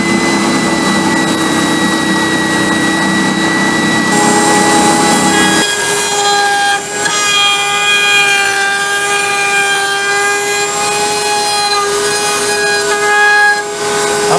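Oak computer desk parts being sanded with a power tool, a loud steady whining hum that shifts to a different pitch partway through, close up with no talking.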